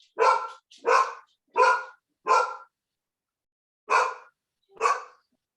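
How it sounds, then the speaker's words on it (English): A single dog barks in short bursts, four quick barks and then two more after a pause, loud and clear with no speech over them. "That dog must like what I'm saying."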